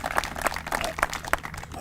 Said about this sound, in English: let's give them another round of applause as well